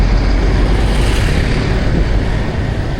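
Dense street traffic in Vietnam, a loud continuous roar of cars and motorbikes passing close by, swelling slightly as vehicles go past, with no talk.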